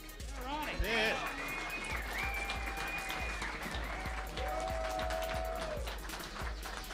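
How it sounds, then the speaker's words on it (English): An audience at a Budweiser Guns and Hoses official weigh-in applauding Colonel Ron Battelle: a steady wash of clapping from a crowd, with whistles and cheers rising above it, lasting throughout. "Please give a big round of applause to Colonel Ron Battelle."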